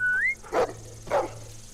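A dog in a zombie video game gives two short, soft barks about half a second apart, preceded by a rising whistle, over a faint steady game hum.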